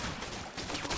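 Dense gunfire from a modded video game match, a continuous loud barrage of overlapping shots with no clear pauses across the second.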